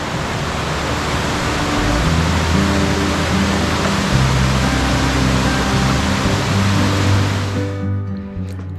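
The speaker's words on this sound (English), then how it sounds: "Fossa is the tallest waterfall in the Faroe Islands, and it's actually on 2 levels." Fossa, the tallest waterfall in the Faroe Islands, falls in two levels toward the ocean. It makes a loud, constant roar of rushing water with a deep rumble underneath, which cuts off abruptly near the end.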